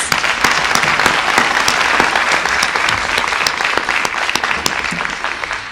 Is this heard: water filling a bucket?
no